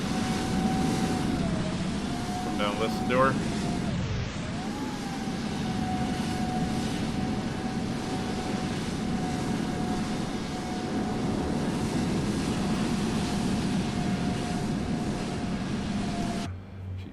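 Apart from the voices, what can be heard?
cargo aircraft engines 1 and 2 starting up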